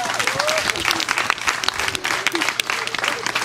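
Audience applause in a school hall, dense and steady crowd clapping with a low hum and faint voices mixed in.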